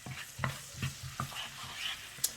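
Whole spices fry in hot oil for a tharka, a soft sizzle broken by several quick scraping stirs at irregular intervals, close by and fairly quiet, with no voices.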